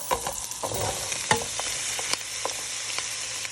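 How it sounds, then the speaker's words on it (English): Vegetables frying in butter in a hot pan, a continuous close sizzle with intermittent scraping stirs and light clinks over it, no talking. "I like to put butter because the pan gets hot and I need the vegetables to cook"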